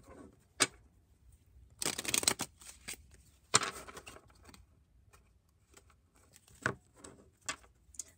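Gypsy Oracle cards being shuffled and handled, with scattered soft riffles and taps, one denser burst of shuffling in the middle, all close and fairly quiet with no talking.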